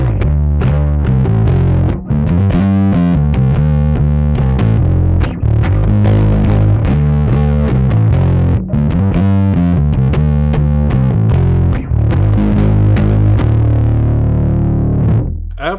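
Electric guitar played through a pedalboard of layered effects, distorted and shimmering with chorus, chords and riffs ringing loud and close for the whole stretch.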